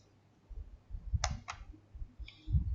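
Typing on a computer keyboard at a desk, a few quiet scattered key clicks and taps over a low room hum, close by and faint.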